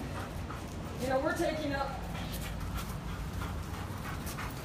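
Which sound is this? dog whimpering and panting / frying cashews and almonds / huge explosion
dog whimpering and panting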